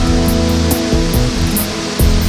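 A large natural waterfall in Costa Rica roars in a loud, steady, dense wash, heard close with no pauses. A low tonal hum sits beneath the rushing water.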